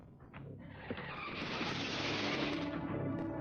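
A 1955 car in an archival film accident reconstruction skids, a broad rising scrape and hiss of tires building from quiet to a loud sustained smear over about three seconds, with no talk.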